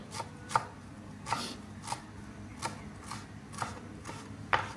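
A knife chops steadily on a cutting board, about seven crisp regular strokes, close up with no voices, slicing fresh herbs for a Thai chicken salad.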